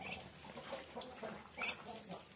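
Muscovy ducks at feeding time in a small home-scale farm pen, giving off a steady stretch of soft, low muttering and clucking calls that overlap one another close by, with no one speaking.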